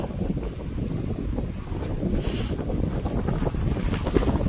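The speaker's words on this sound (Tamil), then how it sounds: "காற்று பயங்கரமாக இருக்குங்க" Strong wind gusts roar steadily outdoors in a rainy tribal village, buffeting the microphone with constant low rumble and a brief hiss midway, no voices heard.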